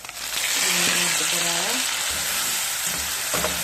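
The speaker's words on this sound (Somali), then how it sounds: "basasha xoogaa waa isku soo shiilay" Onions frying in a pan give a loud, steady close-up sizzle that holds unbroken for a few seconds, with a faint stirring scrape partway through.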